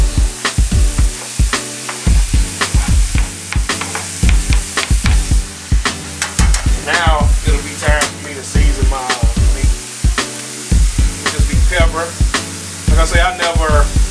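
Onions hit a pan of browned, drained ground beef cooking for chili, giving a loud, continuous sizzle broken by frequent rhythmic stirring scrapes and clacks close up, with no talking.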